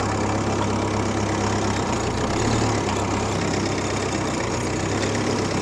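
Petrol engine of the first vehicle to drive to the South Pole idles close by, a steady loud rumble with a slight uneven knock throughout.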